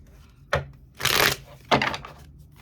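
Tarot cards being shuffled to draw a clarifier, heard as three short, close papery bursts: a quick flick, a longer riffle, then another brisk snap.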